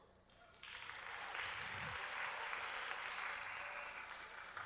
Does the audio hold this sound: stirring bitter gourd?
no